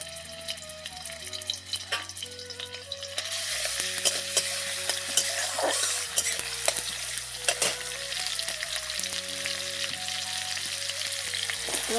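Garlic and onion frying in oil in a pan while being stirred, with a brisk sizzle and scraping spoon strokes, close and busy, becoming louder partway through as the frying intensifies.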